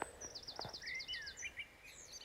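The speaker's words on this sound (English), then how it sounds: "The first bird at 4:20." Early morning birdsong in woodland by a wild camping clearing: a single bird repeats quick, bright chirping phrases, fairly faint and distant, against quiet surroundings.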